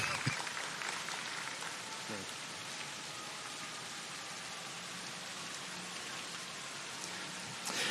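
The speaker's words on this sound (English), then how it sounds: "Give me a round of applause if you know what I'm talking about" A community college commencement crowd gives a round of applause, a dense, even wash of many hands clapping that runs evenly throughout and swells slightly at the end.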